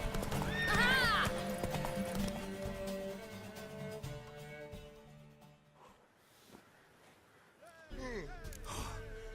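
Horse in The Witcher 3 video game whinnies loudly near the start while hooves clip-clop steadily under game music, then a second neigh rises near the end.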